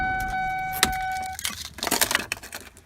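A family car's engine is switched off after a cold start, its steady idle cutting out abruptly, followed by a key rattle and a few close mechanical clicks and shuffling sounds.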